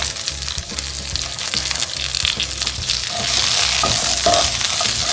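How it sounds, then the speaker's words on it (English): Brussels sprouts hit hot olive oil in a pot and sizzle loudly and steadily, with stirring scrapes and clatter, and the frying swells louder in the second half, no voices present. "So then I'm going to put the Brussels sprouts in the same pot."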